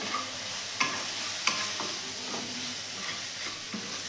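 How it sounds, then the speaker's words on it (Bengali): Ground cumin, Kashmiri chilli and coriander powders fry with a splash of water while a spoon stirs them, sending a continuous sizzle broken by several sharp scraping clacks against the pan. "অল্প জল দিয়ে দিয়ে এটাকে ভালো করে মশলাটা কষবো।"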